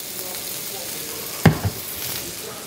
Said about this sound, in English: Onion in the hot pan.